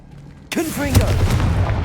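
A Confringo spell blast in Hogwarts Legacy on PC goes off after a quiet lead-in: a sudden loud burst followed by a rumbling, crackling tail and brief whooshing tones.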